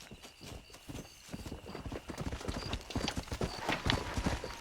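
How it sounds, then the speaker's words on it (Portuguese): A horse in Red Dead Redemption clip-clops along in a quick, steady rhythm of crisp hoofbeats, near and fairly quiet, with a brief whinny-like tone mixed in. "É mais fácil chamar aqui o cavalo."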